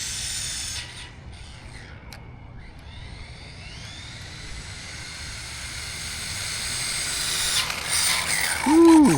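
A stretched Arrma Typhon 6S RC car running on a 3S setup is driven at full throttle, its electric motor and drivetrain giving a continuous whining, grinding roar that swells near the end.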